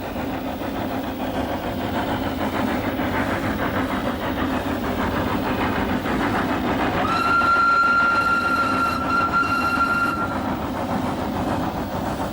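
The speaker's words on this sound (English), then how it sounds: "the first scenic thrill comes as the train puffs up towards the second viaduct" A Llanberis Lake Railway steam train puffs steadily uphill toward a viaduct in a continuous rumbling chuff, and a sustained whistle rings out for about three seconds partway through.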